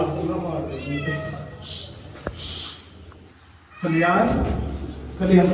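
A cat meows in a few short calls amid people talking nearby, with a brief sharp knock partway through and louder voices near the end.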